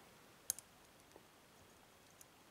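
Pin setting in a TESA TK100 lock during single pin picking gives a faint, crisp click, then a second softer tick, and a couple more tiny ticks in near-silence.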